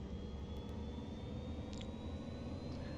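A Cirrus Vision Jet engine in X-Plane 11 roars steadily and close, with a thin whine slowly rising as it spools up for takeoff; no one speaks.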